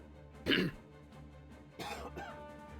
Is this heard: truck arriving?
no